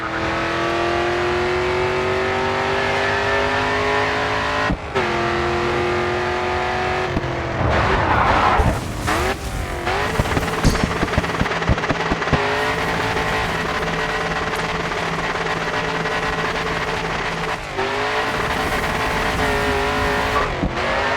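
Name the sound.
race car drifting in Grid 2 video game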